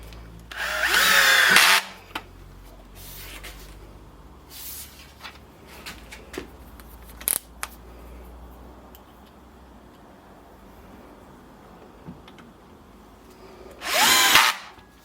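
A cordless drill drives screws to fasten a biscuit joiner to a wooden board, with two loud, close whirring bursts of about two seconds each at the start and end, separated by quiet shop sounds and small taps.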